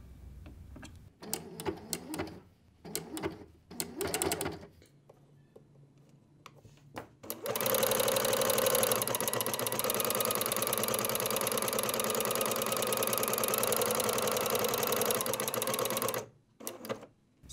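A sewing machine fitted with a flower stitch foot set to its largest size starts with several short bursts of stitching. It then runs continuously and loudly for about nine seconds before stopping, followed by a brief restart.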